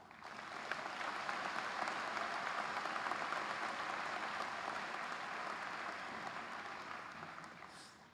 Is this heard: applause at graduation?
yes